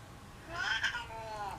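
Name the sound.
cat Artemis meowing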